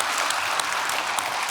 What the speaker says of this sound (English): that's worth the round of applause